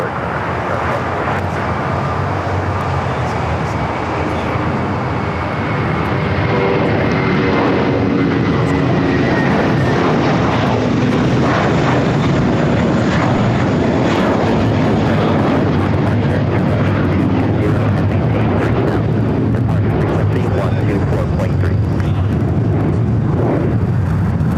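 A United airliner at LAX takes off from runway 25 right, its jet engines building to a loud, broad sustained roar that swells and holds steady throughout.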